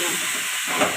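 Meat dropped into hot oil with fried spices, a loud close hissing sizzle that holds steady for about a second with a small swell near the end.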